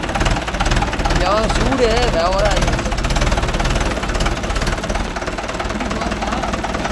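A JCB 3DX backhoe loader's diesel engine runs steadily and loudly close by, its rumble continuing through gear changes while people talk over it.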